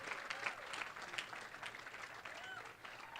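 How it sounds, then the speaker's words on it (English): Audience applause at a charity gala for the master of ceremonies, a steady wash of many hands clapping, fairly faint and distant, with no clear talk over it. "would you give a round of applause to Sam as well?"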